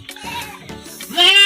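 A goat fed chopped cassava stalks and leaves gives a short, close, loud bleat, rising into a wavering cry at the end.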